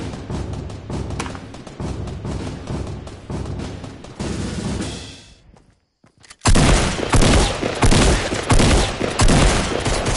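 Video-game shotgun fire pounds away in rapid, loud bursts, then cuts to near silence for about a second. A second barrage follows that is even louder and denser than the first.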